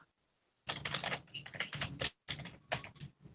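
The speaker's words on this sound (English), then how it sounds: "Who's watching shit and typing right now?" Fast typing on a computer keyboard, dense bursts of key clicks in several runs with short pauses between, close and clear with no talk.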